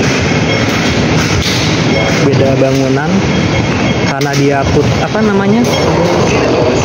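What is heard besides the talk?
MRT train running below the station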